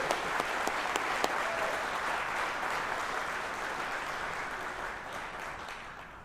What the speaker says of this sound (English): Let's applaud for Matt.